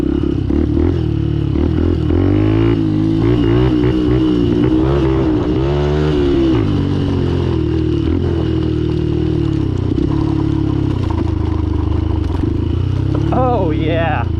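Benelli TNT 135 small motorcycle ridden off-road in mud, its buzzy engine revving and rising steadily up close, with scraping clatter and voices talking over it throughout.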